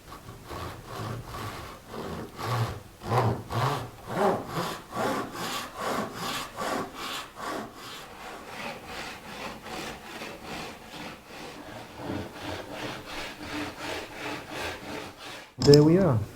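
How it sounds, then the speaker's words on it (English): A hand saw cuts fret slots into a hard ebony guitar fretboard, steady rasping back-and-forth strokes close up, rhythmic and loud, ending with a brief knock. "Ebony is a pretty hard wood, so it might help to lubricate the saw, and I don't cut too deep"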